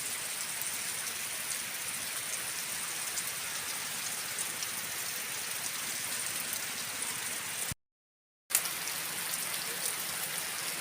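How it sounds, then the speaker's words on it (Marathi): Heavy monsoon rain pours steadily onto green vegetation in the Konkan countryside, a dense and even hiss that drops out briefly for a moment before resuming. "हळूहळू पावसाने बराच जोर पकडलेला आहे."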